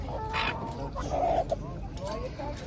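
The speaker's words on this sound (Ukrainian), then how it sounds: "такі домашні півні" Domestic roosters cluck softly nearby in short bursts at a live animal market, with people talking over a constant background hum.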